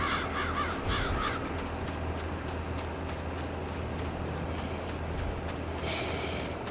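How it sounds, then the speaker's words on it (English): Crows caw outdoors in repeated harsh calls, with a few louder caws near the start and end over a constant background hum. "it's birds. I thought it was a plane for a moment."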